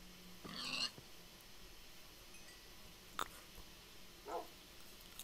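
A pet dog in a survival crafting game barks with a burst of short yaps, then one sharp click and a final brief bark, moderately loud against a quiet background.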